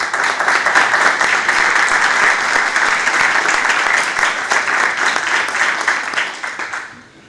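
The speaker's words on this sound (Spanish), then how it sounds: "A los tres los vamos a recibir con un fuerte aplauso." A university radio conference audience gives loud applause to welcome three speakers. The clapping stays thick and continuous, then tapers off in the final second.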